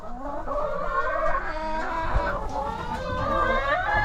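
Several free-range chickens in a mobile chicken caravan cluck and murmur continuously nearby, overlapping soft calls with no talking.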